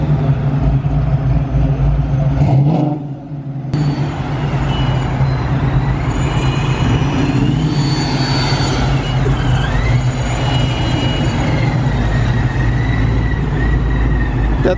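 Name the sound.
loud ProCharger supercharged car engine at a car meet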